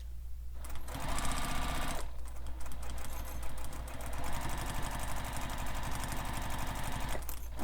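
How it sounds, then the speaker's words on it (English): A sewing machine stitches a fabric seam for a sling pack, running in steady bursts with brief pauses near one and seven and a half seconds, close and continuous. "So sewing with the seam allowance given in the pattern."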